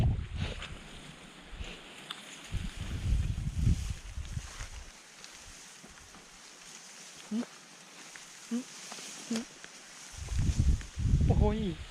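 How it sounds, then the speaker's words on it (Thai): Strong wind gusts across an open farm field planted with rice and melon vines, heard as heavy low rumbling buffets that come and go in bursts, with quieter stretches between and a few faint rustles. "ลมแรงนะ"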